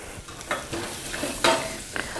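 Spoon stirring flour and cracked pepper in a cooking pot over medium-low heat, with soft scraping strokes and a faint sizzle, close and fairly quiet.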